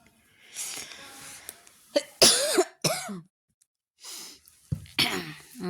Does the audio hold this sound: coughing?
yes